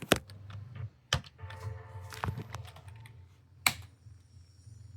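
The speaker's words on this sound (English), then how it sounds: "I have to, you know, use the keyboard to end the task." Fingers tap on the built-in keyboard of a Lenovo Legion Go handheld gaming PC, making sparse, irregular clicks at close range, with a few sharper keystrokes standing out over quiet background hum.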